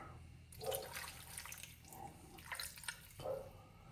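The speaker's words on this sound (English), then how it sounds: "Going to give it a little bit of water." Water is poured in short splashing bursts into a seasoned dish while cooking in a home kitchen. The pours sound close and fairly quiet, with gurgling pulses and brief pauses between them.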